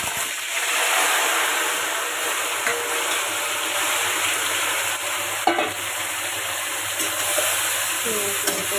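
Marinated duck meat frying in hot oil with cumin, bay leaf and dried red chillies, a loud broad steady sizzle close by with a few stirring clatters, no speech.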